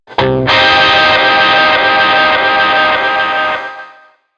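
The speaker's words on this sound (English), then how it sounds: "coupling the whammy with the delay and blues driver to create this kind of nice kind of twinkly synthier sound" An electric guitar runs through a whammy, delay and blues driver pedals, producing a single sharp, twinkly synth-like stab pitched up an octave that sustains loudly for about three seconds before fading.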